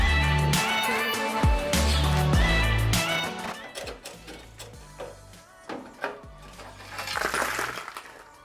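Coins and small metal bits clatter and clink repeatedly, dropping in bursts with sharp jingling impacts as they fall out of a Toyota Celica RA23 body being drilled apart, close by, without speech.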